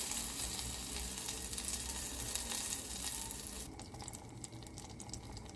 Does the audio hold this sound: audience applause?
no